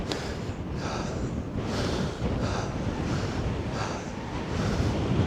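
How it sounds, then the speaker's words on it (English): Strong wind buffets the microphone on a technical fell hike up Place Fell above Ullswater, a loud, continuous broadband roar with gusty surges throughout and no talking. "Windy, as you can probably tell."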